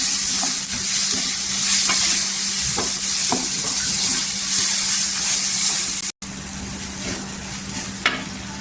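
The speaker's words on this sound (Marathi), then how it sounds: "हे सुके मसाले छान असं परतून घ्यायचं, तेलावर एकजीव करून घ्यायचा" Kashmiri red chilli powder and Agri masala, dry spice powders, fry in oil for hotel-style egg masala, giving a steady, close sizzle with light stirring that runs unbroken apart from one brief dropout.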